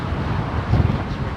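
A strong crosswind at Heathrow Airport roars across the microphone in a short, steady, rumbling gust, with no voices.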